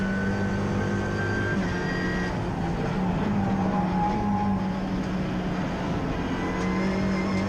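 Racing cars including a Ford Fiesta and an Alfa on the Oulton Park circuit during a Britcar Trophy race, a steady loud engine drone with sustained tonal roar throughout and no talk.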